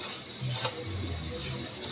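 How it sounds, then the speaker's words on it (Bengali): Lachha semai vermicelli being stirred in ghee in a pan, with soft scraping and a light sizzle, plus a few faint clinks of a utensil against the pot. "লাচ্ছা সেমাইগুলো দিয়ে ভালো করে নেড়ে চেড়ে নিব।"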